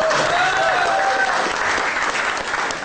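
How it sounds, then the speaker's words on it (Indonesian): A seminar audience breaks into dense, steady applause that fills the room from start to finish, with a few faint voices or whistles rising above it early on. "Tepuk tangan dulu Pak."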